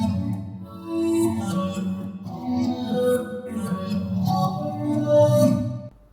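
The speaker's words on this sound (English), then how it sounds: "but like I just reversed the guitar." A guitar track played backwards in a song production swells into each note with a smeared, sucking attack. Layered tones drift and build across several seconds, fairly loud and heard without any voice.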